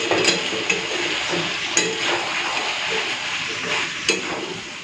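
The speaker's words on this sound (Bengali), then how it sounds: "চলুন এবারে কষতে থাকি।" Chicken curry with potatoes being stirred and sautéed in a pan, a steady soft sizzle with scraping strokes of the spoon and a few sharper clinks against the pan.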